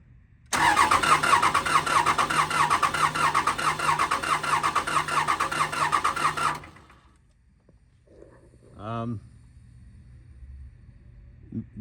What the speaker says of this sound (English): go ahead and crank her over